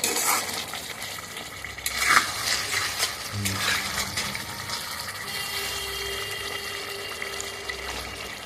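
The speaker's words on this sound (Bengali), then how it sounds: "দেখুন এইভাবে কষাতে থাকবো এবং কড়াই থেকে একটা সুন্দর সেন্ট উঠবে" Spices being sautéed in a kadai for chicken curry, a soft continuous sizzle with intermittent spatula scrapes and clinks against the pan, close and quiet, with no talking.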